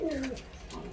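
A pigeon, a home-bred Madras breed, gives a short low coo near the microphone, a single soft rolling call with faint background noise.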